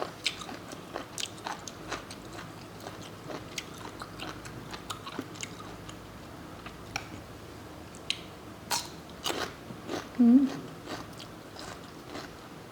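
Crisp crunching bites and chewing of raw beef and liver, repeated several times up close over a quiet background, with one louder crunch near the end.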